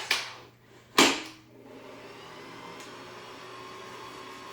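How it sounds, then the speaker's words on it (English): An electric mixer starts with a sharp whir, then settles into a steady mid-level hum as it beats eggs and vanilla extract in a bowl for brownie batter, with no talking. "Just going to get the mixer going on these ingredients."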